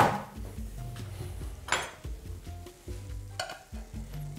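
Chicken kufta frying in a hot pan, a steady sizzle under repeated stirring, scraping and clinks of a utensil against the pan, close and moderately loud with no talking.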